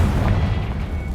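A deep, rumbling fire-spell explosion from the Confringo curse in Hogwarts Legacy, a loud low boom that fills the short moment with no talk over it.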